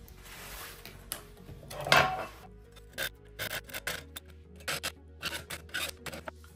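A length of light strip or mounting channel for an Aqara radar-powered light installation being cut, heard as close raspy rubbing and scraping strokes in short irregular bursts, with a louder rasp near the start.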